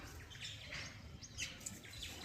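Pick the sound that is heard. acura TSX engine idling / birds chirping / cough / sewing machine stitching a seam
birds chirping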